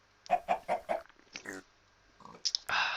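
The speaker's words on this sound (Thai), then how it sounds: "อ้าวว่าไงชิคเก้น นายมองหน้าเราแต่เช้าเลยนะ" A chicken in a Minecraft-style survival farming game gives a quick run of four clucks, then a pause and a few more scattered squawks, close and clear.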